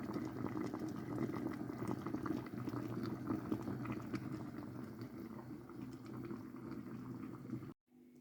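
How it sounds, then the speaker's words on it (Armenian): A pot of tolma simmers over low heat, covered with a plate set on top, giving a steady, close bubbling hiss that runs without a break and then cuts off abruptly near the end. "Եվ էփում եմ մարմանդ կրակով"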